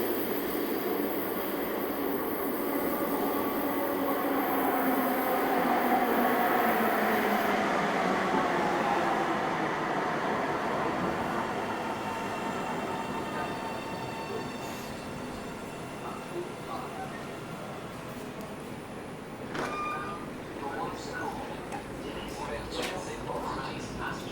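A ride aboard an Ottawa LRT light rail train in 2021: steady rolling rumble and whining motor tone that rises then gradually eases, with faint squeals and clanks later on, and people talking over the interior noise.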